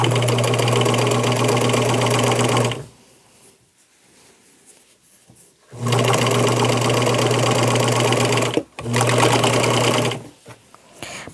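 Sewing machine stitching fabric for a beginner upcycle project, loud and close, running in two long steady bursts with a pause between and a brief stop near the end.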